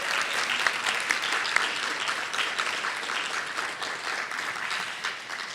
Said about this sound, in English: Will you all please help me give a warm round of applause to these wonderful